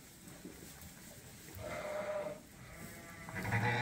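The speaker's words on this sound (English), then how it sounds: "This is a beautiful, beautiful ewe lamb." A newborn ewe lamb in a barn gives two wavering bleats, the second louder and closer, over a soft background hush.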